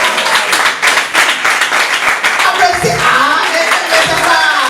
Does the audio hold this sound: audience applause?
yes